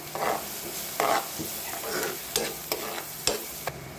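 Onions and grated coconut fry in a pan for a fish dish, a steady sizzle broken by repeated scraping stirs of a spoon against the pan, close and fairly loud, with no talking.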